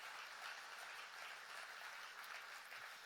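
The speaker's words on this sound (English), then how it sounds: "How about a round of applause for the men and women who build these incredible vehicles in Indiana?" Audience applause at an RV industry breakfast in Indiana, a steady dense wash of many hands clapping at moderate distance, fairly faint and even throughout with no voices over it.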